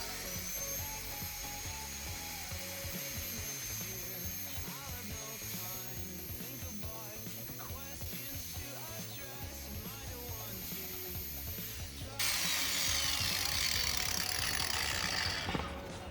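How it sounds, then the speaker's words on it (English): An angle grinder works on a green gas airsoft magazine inlet, a steady high whine that runs continuously and shifts to a harsher, brighter pitch near the end. "Angle grinder. Angle grinder it is."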